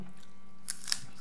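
Two sharp crunches sound close up as a crunchy fruit picked from a botanical garden is bitten and chewed, set against a quiet low hum.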